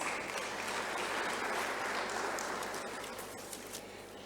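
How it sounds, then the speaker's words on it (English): A conference audience applauds at an opening ceremony, dense steady clapping from a large hall crowd that gradually tapers off toward the end. "let us give NPOs another round of applause"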